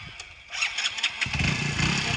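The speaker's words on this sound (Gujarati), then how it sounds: "આમ જો તમારાથી બાઈક ચાલુ થતો નહીં" A motorcycle engine cranking and catching, with a few sputtering bursts that build into a rough, steady idle rumble close by.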